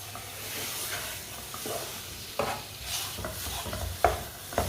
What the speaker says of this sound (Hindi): खजूर को ना 2-3 मिनट के लिए पका लेंगे, खजूर हमारी नरम हो जाएगी।